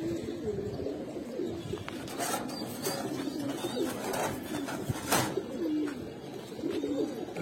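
Giribaz pigeons cooing steadily in a loft, soft repeated low coos close by over a faint background hum.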